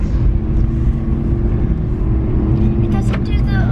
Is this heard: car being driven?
yes